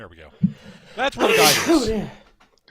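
A single sharp sneeze bursts out amid casual talk, close and loud, followed by more speaking.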